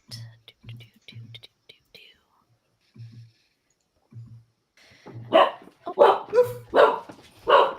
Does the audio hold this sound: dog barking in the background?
yes